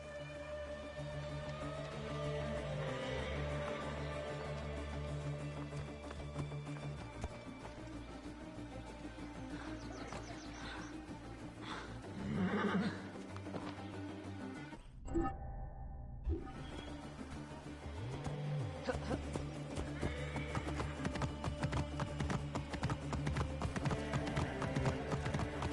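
Horse hooves clip-clop in a steady rhythm over a continuous Assassin's Creed Origins soundscape, with a brief pause midway before the hoofbeats resume.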